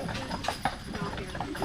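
Horses pulling a carriage on Mackinac Island clip-clop in an uneven patter of hoofbeats on the road under a constant rolling background, fairly faint.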